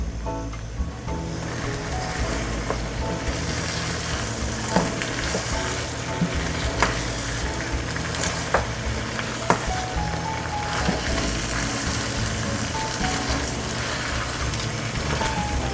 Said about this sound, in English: I'm just going to sprinkle that, and then mix it thoroughly.